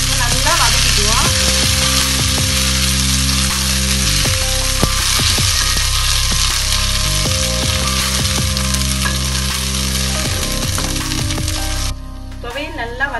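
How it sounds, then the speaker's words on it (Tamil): Thoothuvalai chutney mixture with mustard seeds and urad dal sautéed in a pan, a loud steady sizzle with scraping spoon strokes, then a brief drop near the end. "நல்லா வதக்கிக்குவோம்."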